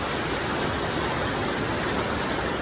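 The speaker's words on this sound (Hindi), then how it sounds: "पानी का आवाज़ सुनो गाइस." A steady, dense rush of falling water roars without a break, like a nearby waterfall, with no voices.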